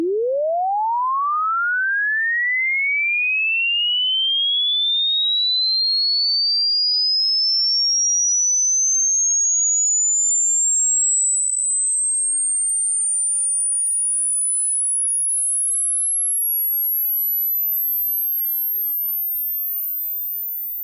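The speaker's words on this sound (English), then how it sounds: "demonstrate the pitch from low to high pitch" Hearing test tone, a pure sine sweep that glides steadily from a low pitch up to a very high piercing whine, loud and continuous without any voices.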